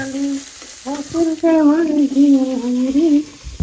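Pomfret fish fries in a pan with a steady sizzling hiss, while a voice talks or hums over it almost throughout the clip.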